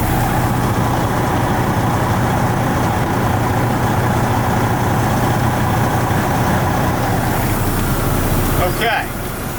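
A tractor-trailer truck's diesel engine rumbles steadily at low revs as the rig turns hard right and maneuvers to line up with its trailer, with a constant low drone and a brief rattle near the end.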